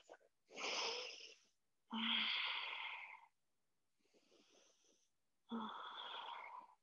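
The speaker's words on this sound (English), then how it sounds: "deep breaths" Slow, deep breaths during a yoga flow, three long breathy exhalations spaced a few seconds apart with a fainter one between, close and quiet, no talking.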